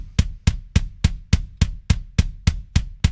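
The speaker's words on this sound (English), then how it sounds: "So without the processing on the kick, it sounds like this." An unprocessed kick drum sample hits alone about every 0.3 seconds in an even, steady pulse, each thump short and fairly dry, with nothing else in the mix.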